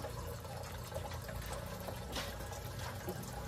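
Water being poured into a container for heating, a steady soft splashing trickle that runs continuously and low in level.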